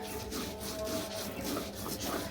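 Black cumin is ground into a mash with onion, garlic and dried chili, giving soft, close, continuous grinding and rubbing strokes at low volume.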